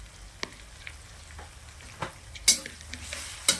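Panch phoron five-spice and cumin seeds are frying in hot oil with a soft, steady sizzle, broken by a few sharp pops and spoon scrapes against the pan. No voices are heard.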